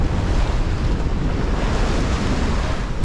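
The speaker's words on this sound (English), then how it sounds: "The sea was getting rougher, creating choppy waves" Choppy North Sea waves slosh and break in a steady, loud wash, with wind buffeting the microphone throughout and no voices.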